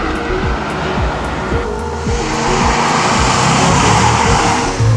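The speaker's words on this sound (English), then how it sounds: "The first thing you notice in here is the sound. This V8 is certainly not subtle" Vauxhall VXR8 V8 engine droning loudly and steadily through a drive, its pitch climbing and falling across repeated gear changes, heard from inside the cabin with no voices.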